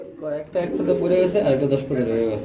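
Male Arabian cuckoo pigeons coo in low, rolling, throaty calls that repeat close by, with a person talking over them.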